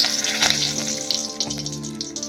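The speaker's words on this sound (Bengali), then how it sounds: "তেল গরম হয়ে গেছে আমি অ্যাট ফার্স্ট দেবো তেজপাতা" A bay leaf dropped into hot oil, the first step of a chicken malai curry, gives a soft, steady sizzle close by, with no talking.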